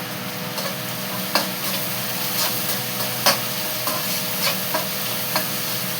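Vegetables fry in oil in a pan, with a continuous close sizzle and regular scraping strokes from stirring, several sharper clacks of the utensil against the pan, and no one speaking.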